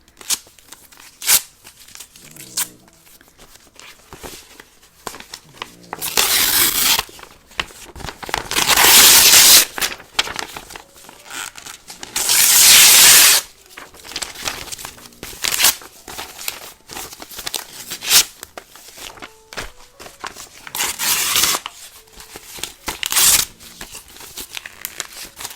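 Junk mail paper and envelopes are torn and ripped up close, in irregular bursts of sharp crinkling tears separated by short quiet gaps, with several long loud rips in the middle.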